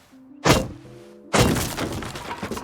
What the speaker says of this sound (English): we can hatchet out the twig window frame